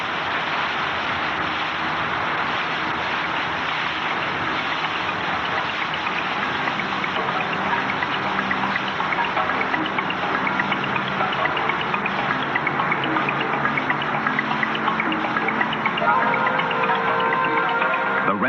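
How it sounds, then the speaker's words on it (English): Dense, steady rush of churning water over rocks, loud and continuous throughout with no letup or voices. "The rapids are the result of a violent clash between water and rock."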